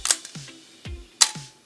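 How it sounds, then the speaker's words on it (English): Camera shutter fires twice with sharp mechanical clicks, each followed by a brief whirring snap as it opens and closes, close and crisp with no speech. "now the amount of time that shutter is open, as you see it just closed, is the shutter speed"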